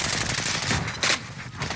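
Rapid automatic fire from a Stoner 63 light machine gun in Call of Duty: Warzone, loud and continuous bursts close by, layered with game effects and no talk over it.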